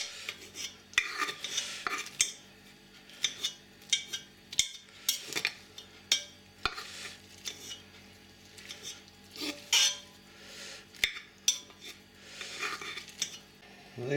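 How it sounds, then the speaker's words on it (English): Cooked green beans roughly chopped with a knife on a board: irregular clicking knife strikes and scrapes, with a few light metallic clinks, close by in a quiet kitchen. "I just roughly chop them up with a knife so they fit in the jar"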